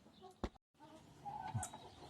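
Chickens in a coop give soft clucks and short calls at close range, with brief rustling and a moment of near silence between sounds.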